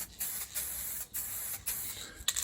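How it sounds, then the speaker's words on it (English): A spray gun lays a first coat of finish on wooden shaving brush handles hung on a wire, sounding as steady close hissing bursts broken by brief pauses. "this is the first coat I do. I just spray it."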